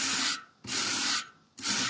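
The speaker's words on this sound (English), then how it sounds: "Because this is old, I'm guessing this is copper, so you got to go quite weak with a wire brush." A wire brush scrubs an old copper part from a 1972 Reliant Regal Smiths heater box, making three close, harsh scratching bursts separated by short pauses.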